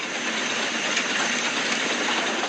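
A train sound effect used in a Halloween story has a locomotive thundering past. The roar is loud and continuous, rumbling steadily across the whole stretch, with no narration over it.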